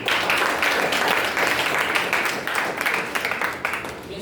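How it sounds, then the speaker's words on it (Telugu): Loud group clapping at a certificate and book distribution for a personality development course, many hands clapping with individual claps standing out, fairly close. "సో గట్టిగా క్లాప్ కొట్టాడు"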